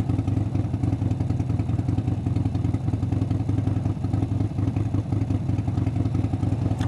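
A Harley motorcycle engine idles in a steady, loud low rumble with a dense, even throb and faint mechanical clatter, running continuously nearby without any talking.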